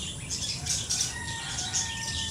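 Birds flap their wings close by, a few bursts of fluttering with clucking and chirping calls over a steady outdoor background; no talking.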